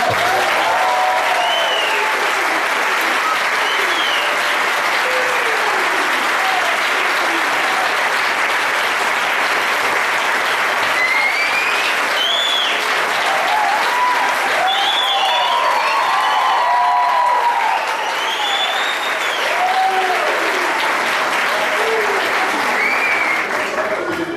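A church congregation bursts into strong, sustained applause that stays loud and dense throughout, with voices calling out and singing above the clapping.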